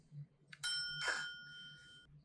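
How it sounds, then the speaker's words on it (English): A small bell like the one rung by Tio in Breaking Bad gives a bright metallic ding with a lingering ring, struck a second time just before it fades, close and clear over quiet room tone. "Tio and his bell"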